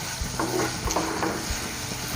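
Steady sizzling of fish roe frying in a pan with soy sauce, with a few scraping stirs of a spatula cutting through the hiss. Close and continuous, with no voices.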